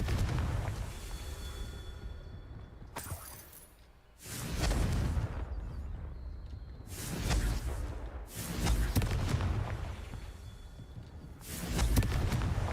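Confringo blasting spells cast in the video game Hogwarts Legacy, heard as several loud, broadband bursts spaced a few seconds apart, each a sharp whooshing blast that rings out and fades, with no voices over them.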